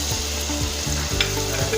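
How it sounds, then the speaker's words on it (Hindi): Browned onions with ginger garlic paste and tomatoes fry in a pan for a chicken liver masala, giving a steady close sizzle. Repeated scraping strokes of a stirring spoon run through it, with no talking. "अब इसको अच्छी तरीके से हम फ्राई कर लेंगे।"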